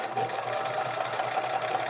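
A home sewing machine with a cracked drive belt runs steadily at close range, a continuous whirring hum with a fine rapid ticking pulse throughout, with no voices.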